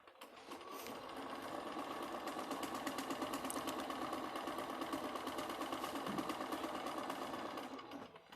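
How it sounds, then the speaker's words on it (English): A sewing machine runs steadily for about eight seconds, stitching along a fabric edge with a continuous fast mechanical whir and close, even needle chatter, heard on its own without talk. "Let me just sew a little bit"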